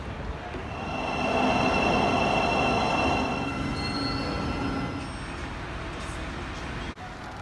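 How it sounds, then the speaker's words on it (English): A train ride heard from inside the carriage, with a steady rumble of wheels on rail, a faint squeal of wheels and a brief clunk near the end. "Catching the train at Kingsbury."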